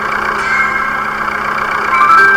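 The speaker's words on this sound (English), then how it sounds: "This is a tractor and not a bucket." A tractor engine idles in The Stanley Parable video game, a steady mid-pitched drone holding evenly throughout with a faint tonal whine on top, close and alone with no talk.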